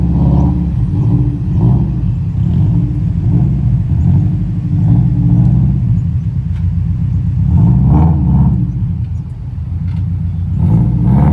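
Subaru Impreza engine at an all-wheel-drive car meet, a steady loud low rumble with recurring swells of revving, close by and continuous throughout with no talk.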